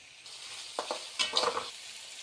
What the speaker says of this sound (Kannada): ಹೆಚ್ಚಿಟ್ಟಿರುವಂತಹ ಮೆಣಸಿನಕಾಯಿ ಹಾಕಿ ರೋಸ್ಟ್ ಮಾಡಿ